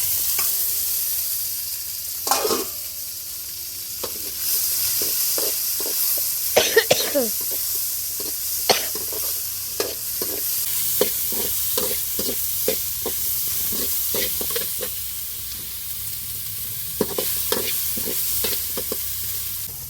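Vegetables sautéing in a hot pan, with a steady frying hiss under repeated scraping and stirring strokes of a utensil, close and moderately loud, plus a couple of coughs partway through.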